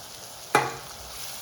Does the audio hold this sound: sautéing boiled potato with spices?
yes